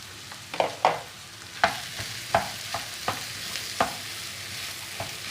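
Minced meat frying with onion and garlic in a pan, a steady close sizzle broken by sharp scraping clicks of a spoon stirring about every half second, with no talk.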